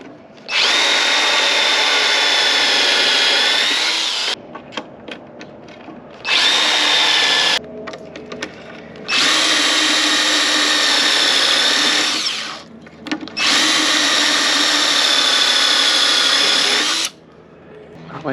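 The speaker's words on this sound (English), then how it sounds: "Because we got to drill the little" A power drill bores into a bathroom floor in three long, loud whirring runs separated by short pauses, close up, with a brief rattle between bursts.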